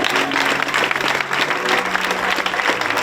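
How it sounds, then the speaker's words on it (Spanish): An audience applauds the third-place winner of a motorcycle gymkhana at a neighborhood festival in Zaidín, with steady, dense clapping that holds evenly throughout, a few crowd voices mixed in. "Un aplauso."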